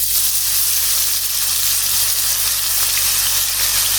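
Chopped onions dropped into hot oil with whole spices and bay leaves for a curry sizzle loudly and steadily, a close, bright frying hiss with a low hum beneath and no talk.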